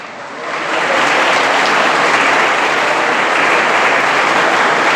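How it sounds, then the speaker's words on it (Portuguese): Church congregation bursts into loud, sustained applause during a sermon, swelling in the first half second and holding a dense, even roar of clapping to the end. "Aplaude o Senhor."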